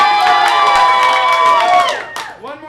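A studio audience at a game show cheers and shouts loudly, with children's voices in the crowd and some clapping, the roar sustained before fading out near the end.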